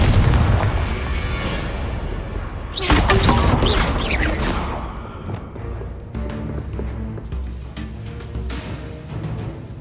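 Confringo spell blasts in the Hogwarts Legacy video game, heavy booming explosions with crashing debris, one especially loud burst midway followed by rumbling impacts.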